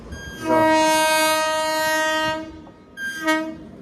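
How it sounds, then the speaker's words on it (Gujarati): A train sounds a loud, sustained horn as it arrives at a closed village level crossing, one long blast followed by a shorter second blast, close and dominant with no voices. "ટ્રેન જો રેલગાડી આવી ગઈ છે"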